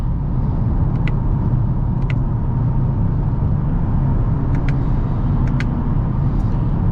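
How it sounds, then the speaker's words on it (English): Constant road noise inside a 2024 Toyota Camry running on 235-size 19-inch bronze rims, a steady low tyre rumble and drone with a few faint clicks on top. "A little bit of road noise, and that could be just because of those 19-inch rims."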